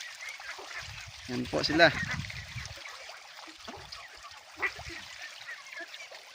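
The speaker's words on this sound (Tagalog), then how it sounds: "ang sarap pong tingnan kapag masaya po yung ating itik na naliligo sa sapa" Domestic ducks bathe and splash in a stream, with honking, quacking calls and bursts of water splashing rising over steady outdoor ambience while a person speaks.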